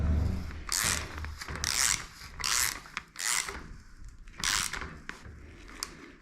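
A ratchet with a 17 mm socket turns on the suspension of an F650 motorcycle, giving several close, loud bursts of rapid clicking separated by short pauses, with no talking.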